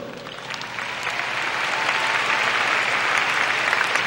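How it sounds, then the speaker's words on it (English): An audience at a high school graduation applauds, a sustained wash of clapping that swells slightly and holds steady throughout. "please give a round of applause for the following individuals"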